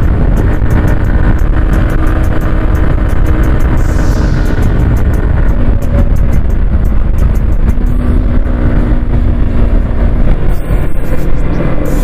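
Several motorcycles ride together on a road, among them Duke and RS bikes, with a loud, continuous roar of engines and wind rushing past and no talking.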